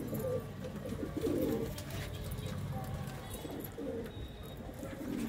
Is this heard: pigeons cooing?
yes